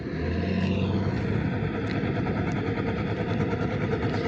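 A heavy wheat harvester engine fitted with a silencer drones steadily and loudly with a low, muffled rumble and no pauses, close by.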